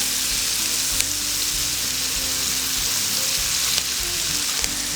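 Bacon, onions and garlic fry in a pan with a loud, steady sizzle and crackle, heard up close with no talking.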